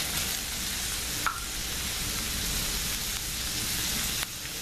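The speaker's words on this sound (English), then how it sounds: "Put some more peanut oil. And now just add the veggies." Vegetables fry in peanut oil in a pan with a steady, dense sizzle. The sizzle holds even and close throughout, with a couple of brief clinks of a utensil.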